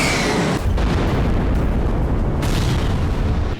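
Explosions on Russian soil from war news footage: one heavy boom at the start rolls straight into a dense, continuous roar of blasts that stays loud and unbroken throughout, with no voices.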